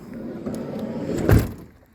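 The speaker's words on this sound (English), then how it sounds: "close your door" An Auto-Sleeper Warwick XL motorhome door, a 2018 model, is pulled shut with a single firm thud near the end, after a steady low rumble of the vehicle's surroundings; the sound fades away quickly afterwards.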